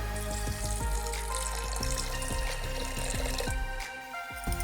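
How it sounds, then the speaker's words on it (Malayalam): Water is poured into a pot of yam for Kerala-style koottu curry, a close, continuous splashing pour that stays steady throughout, with no talking. "ഇതിലേക്ക് ആവശ്യത്തിനുള്ള വെള്ളം ഒഴിച്ച് വേവാനായിട്ട് വെക്കാം"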